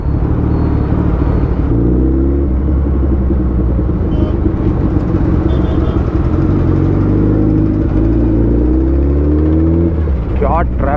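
Dense road traffic roars around a Suzuki Hayabusa motorcycle on a ride, with steady engine rumble, whirring wind and passing vehicles throughout, and someone talking over it.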